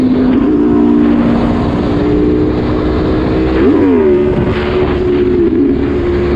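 Motorcycle engine revving hard under throttle during a POV ride on a rollers photo shoot, a loud steady harmonic drone that rises and dips around a gear change, with wind rush throughout.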